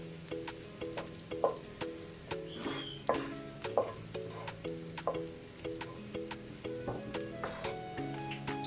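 Hot oil and ghee are drained from a pan of cooked chickpeas after the stove is switched off. A faint residual sizzle sits beneath a steady run of soft metallic taps and scrapes, quiet and close.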